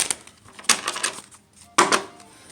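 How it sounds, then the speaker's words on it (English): Tarot cards are shuffled against a computer keyboard, two bursts of rapid clattery riffling and key clicks separated by short quiet gaps, close and fairly loud, no talk. "I got to stop trying to shuffle it on that keyboard."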